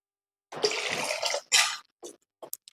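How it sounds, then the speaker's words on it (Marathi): Water is poured into a soya chunks masala gravy as it cooks, a close splashing pour that runs for about a second, then a second shorter burst, followed by a few faint drips and trickles. "इथे अजून मी थोडं पाणी ऍड करत आहे"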